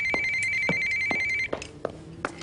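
A telephone rings in a steady repeated electronic trill for about a second and a half, then stops, leaving a few soft scattered knocks and rustles.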